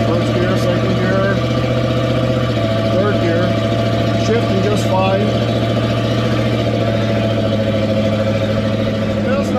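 A 1979 Chevrolet C20 square-body truck with a 454 engine drives along, its mid-pitched engine droning steadily with a shift in tone partway through, while someone talks over it.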